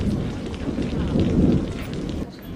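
Heavy rain pours steadily while thunder rumbles through a storm, a dense hiss over a low rolling roar that swells in the middle and eases near the end, with no voices.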